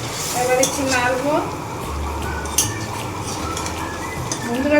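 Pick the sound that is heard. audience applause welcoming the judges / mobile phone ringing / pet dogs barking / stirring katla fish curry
stirring katla fish curry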